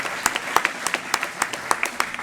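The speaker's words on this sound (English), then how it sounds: "let's give Dr. Smith one more round of applause" A short burst of audience applause after a science lecture, a crowd clapping steadily for a couple of seconds, moderately loud and close.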